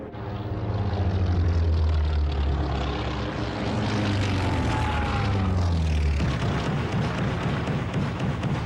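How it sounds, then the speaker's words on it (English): A WWII Torpedo Squadron 8 propeller aircraft taking off, its engine droning loud and steady with a deep throbbing roar that holds throughout, no voices over it. "take off to attack the Japanese fleet. Torpedo Squadron 8 will strike first."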